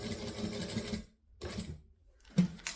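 Sewing machine running forward at a 4 stitch length while making a jumper hanger bag, two short bursts of steady stitching separated by pauses, close and moderately loud.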